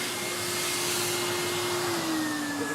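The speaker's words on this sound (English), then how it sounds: "It's a really good little vacuum cleaner." A Numatic Henry HVR200A vacuum cleaner runs steadily on carpet, a loud continuous motor whine with a broad airy rush and no voices.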